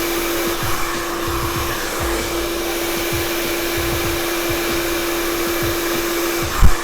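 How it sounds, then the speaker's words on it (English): Steady close whir of a blow dryer drying hair, a constant airy roar with a faint tone running throughout and small bumps as it moves along the mid shaft. "notice how the direction of the blow dryer is always going down with the cuticle"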